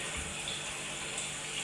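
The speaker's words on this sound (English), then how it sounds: "But we also have to pour water in the saucepan." Water pours steadily from a tap into a saucepan for boiling eggs, a continuous even rushing splash, close and fairly quiet, with no voices.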